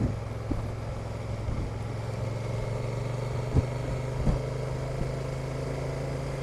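A Honda NT1100 DCT motorcycle rides through a forest, its engine giving a steady, even drone with a constant low hum and a couple of brief thumps, heard close and without talk.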